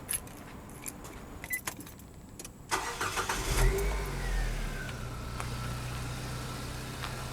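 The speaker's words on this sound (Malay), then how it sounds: "Sekarang saya akan hidupkan enjin" A campervan's engine cranks and fires after a few key jangles and clicks, then settles into a steady, low idle hum that continues to the end, heard close with no talking.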